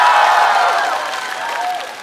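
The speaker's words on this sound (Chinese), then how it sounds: "来欢呼吧，欢呼吧！" Cheering and applause from a stand-up comedy audience, a dense wash of clapping with a few shouts that starts loud and eases slightly over two seconds, with no talk on top.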